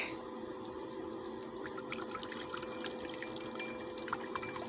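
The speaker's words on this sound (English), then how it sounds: "let's give it a pour" Chilled boxed wine pours into a glass, a soft continuous trickle with scattered dripping splashes, quiet and close with no talking.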